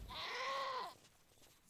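A goat in the video game Wasteland 2 lets out one loud, wavering bleat lasting almost a second, followed by quiet background.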